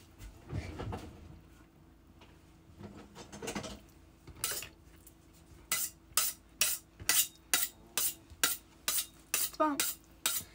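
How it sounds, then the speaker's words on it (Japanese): A kitchen knife being sharpened, heard as a steady series of about ten sharp, evenly spaced scraping strokes in the second half, following quieter clatter and handling noises, close and fairly loud. "じゃあ包丁研ぐね"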